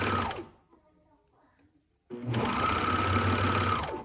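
A sewing machine stitches the band of an Ollie romper, with a short burst, a near-silent pause, then a loud, steady run of close mechanical whirring to the end.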